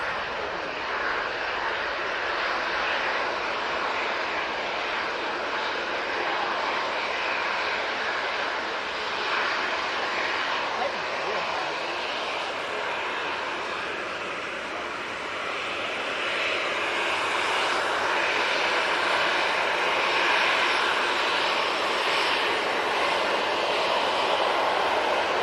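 A Jet2 passenger jet departs Manchester Airport for Malaga, its engines giving a steady loud roar heard at a distance that holds strong and slightly swells over nearly half a minute.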